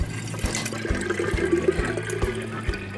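Water is poured out in a steady rushing flow, close and fairly loud, with rhythmic low thuds and splashing throughout, no speech.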